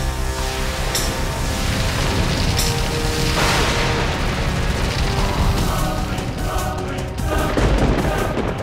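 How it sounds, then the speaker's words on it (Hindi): Fireball attack explosions from a fantasy TV show: dense, loud booming blasts and crackling bursts rolling continuously, layered sound effects with several sharp impacts. "भयंकर परियों, आग के गोलों से आक्रमण करो।"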